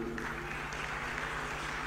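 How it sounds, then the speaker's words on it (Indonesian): A crowd at a political event with Ganjar Pranowo and Rocky Gerung on stage gives continuous applause, a soft, dense wash of clapping that stays fairly quiet and steady, with no voices on top. "Tepuk tangannya meriah."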